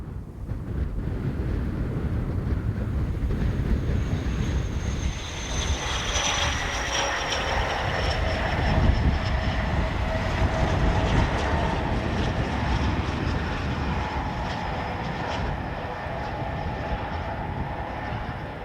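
HST diesel power car with an MTU V16 4000 or Paxman VP185 engine passing by, a loud, sustained engine roar and rumble with a whining tone that shifts in pitch as it goes.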